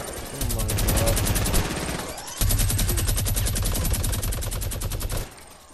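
Rapid video game gunfire from a minigun rattles in continuous bursts, with a short pause near two seconds before resuming and cutting off abruptly.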